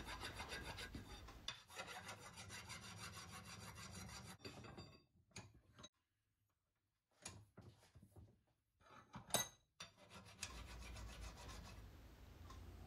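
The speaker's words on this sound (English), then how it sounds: "Then I put it in my vise and give it a little deburr with a file to remove any burrs." A hand file rasps back and forth across a machined metal part with a fresh 6mm tapped thread and a spline, clamped in a vise, a quiet scraping rhythm broken by pauses before the strokes resume.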